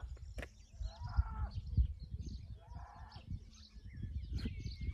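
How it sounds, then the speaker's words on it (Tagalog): Birds call in a quiet rural spot in the Philippines near a highway, a few faint chirps and short calls repeating over a low background rumble, with no talk. "Ayan, mga huni ng ibon na yun, Yan yung maririnig namin dito."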